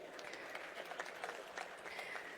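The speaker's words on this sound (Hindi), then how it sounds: "जरा जोरदार तालियां तो बजाइए।" Applause from a seated audience at a tourism conference session, a faint, distant wash of steady clapping with a few sharper individual claps.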